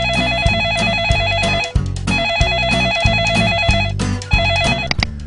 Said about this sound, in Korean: 프로레슬러 김남훈 씨가 그분과의 전화통화 녹화한 거 잠깐 보고 잠깐 쉬었다가 진행하도록 하겠습니다